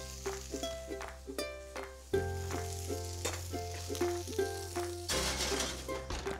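Food sizzling in a pan on the stove with potatoes, lemon and fresh spinach, a steady frying hiss under background music, with occasional clinks of utensils.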